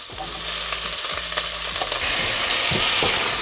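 Two small onions sauteing in bacon fat in a pan on a big burner turned down low, giving a steady close sizzle broken by scraping stirs that grows a little brighter toward the end.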